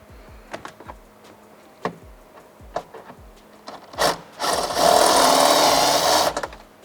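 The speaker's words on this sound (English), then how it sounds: "a step drill bit. I find that a little bit easier." A step drill bit bores a hole through the car body of an FL5 Honda Civic Type-R. Several short clicks and taps are followed by a loud, sustained whirring drill run of about two seconds, heard close up.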